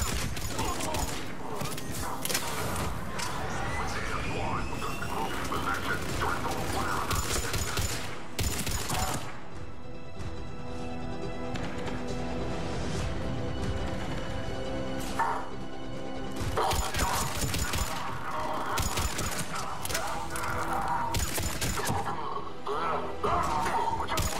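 A Mass Effect 3 firefight at a checkpoint with Cerberus troops: loud, dense bursts of rapid gunfire and crashing impacts, broken by a short lull before the shooting resumes, with voices talking over the battle.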